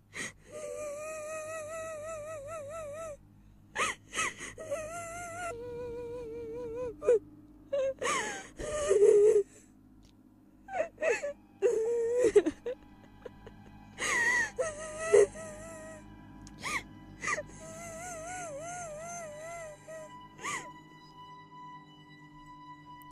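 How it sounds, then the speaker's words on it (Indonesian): Eerie crying effect in a mountain ghost story: wailing, sobbing and gasping sounds in broken bursts with quivering, wavering tones, set against a quiet, dark background drone, with breathy pauses between cries. "suara tangisan itu persis seperti di sebelah tenda paman"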